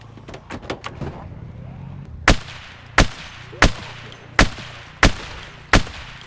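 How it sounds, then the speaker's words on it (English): Gunshots in the zombie survival video game Project Zomboid: a quick burst of four lighter shots, then six loud, evenly spaced heavy shots, each with a short echoing tail, no talking. "I have a tendency to shoot a couple of bullets and then always check around me"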